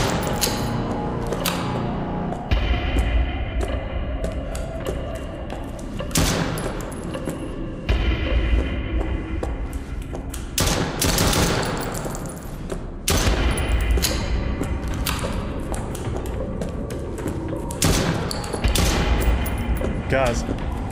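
Sustained video game gunfire in a hospital setting, dense bursts of rapid shots and loud cracks repeating throughout, with occasional heavy thuds and a voice speaking over the shooting.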